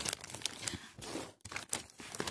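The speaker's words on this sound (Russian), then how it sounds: "приступим к распаковке ко второй посылочке" A parcel of cosmetics being unpacked, with close, quiet crinkling and tearing of plastic packaging and bubble wrap in short irregular bursts and a brief pause midway.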